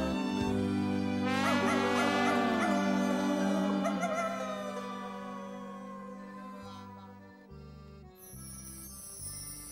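A howling canine sound, sung as part of a children's song about a little coyote, rising and wavering over sustained musical tones, loud at first and fading toward the end.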